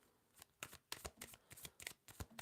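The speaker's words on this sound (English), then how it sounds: "Let me just shuffle this deck up nicely here" A deck of playing cards is shuffled in a quick run of crisp riffling bursts and slaps, close and fairly quiet, with no talking.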